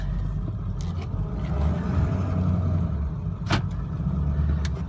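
2002 Ford F250 truck creeping forward, a steady low engine rumble close by with a couple of brief clicks or knocks, no talking.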